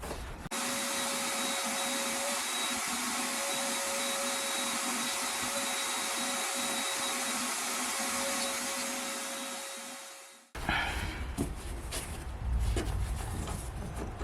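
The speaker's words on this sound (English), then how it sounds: "let me vacuum this up" Vacuum cleaner sucking up sawdust during a budget repair in a 1970s mobile home, a loud steady drone running about ten seconds before switching off, followed by rustling and handling noise.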